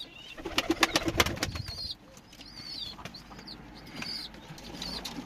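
Pigeons in a coop in the evening, with a burst of wing flapping followed by soft, repeated cooing and a few chirps close by.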